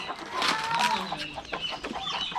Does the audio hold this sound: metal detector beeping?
no